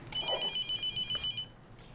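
A telephone rings in the horror game Mortuary Assistant, a steady series of electronic trilling rings pulsing in a regular rhythm, fairly loud and close, then cutting off.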